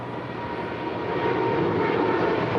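A Polar Air Cargo jet departing LAX for Tokyo Narita roars as a steady broadband engine rumble, loud and continuous, growing slightly stronger through the short stretch with no voices.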